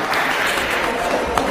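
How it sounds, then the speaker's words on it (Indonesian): Audience applause at a religious debate between converts: a dense, continuous burst of clapping from a crowd, steady and fairly loud through its short length. "Aplaus buat Bu Maya."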